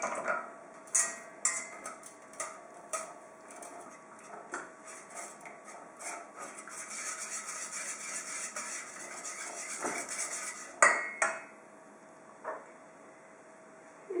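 White chocolate and cocoa butter being stirred in a pan off the heat for a white chocolate blackcurrant Yule log, a utensil ticking and scraping against the pan in irregular clinks, then a steadier stretch of stirring, close and fairly faint.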